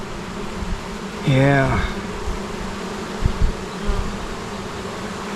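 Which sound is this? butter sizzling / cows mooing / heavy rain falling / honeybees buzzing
honeybees buzzing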